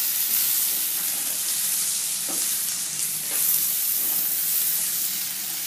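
Pumpkin pieces with skin on, about 250 grams, sizzling in a hot pan while cooking a sweet-sour vegetable dish; a steady, close frying hiss with occasional stirring scrapes, no voices.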